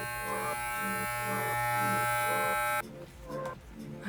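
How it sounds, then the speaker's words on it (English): Electric hair clippers buzz loudly and steadily up close for nearly three seconds, then cut off abruptly and leave quieter handling noise. "We got this awesome new buzzer. It's loud and scary."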